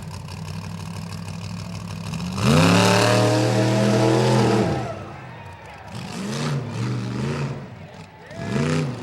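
A tough truck at a 2014 county competition roars off the start, its engine revving hard and loud before easing off, then surging again in bursts as it whips around the first turn, with a commentator talking over it.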